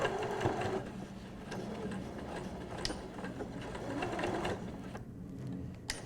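A sewing machine runs steadily while stitching apron fabric, a close, continuous mechanical whir with light rhythmic needle clatter, pausing briefly near the end before resuming.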